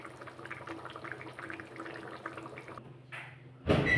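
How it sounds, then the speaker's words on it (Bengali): Ghugni, a pea curry, bubbling in a pot, a steady soft simmer of popping and gurgling that runs for several seconds before a sudden louder burst near the end. "ঘুগনিটা ফুটে উঠেছে"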